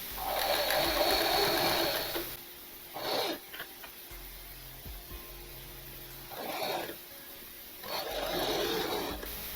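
A sewing machine stitches fabric for a baby dress in short bursts of rapid mechanical whirring, with quiet pauses between runs.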